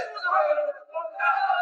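A wrestling arena crowd roars and yells in support of a Chinese fighter in two loud bursts separated by a short dip.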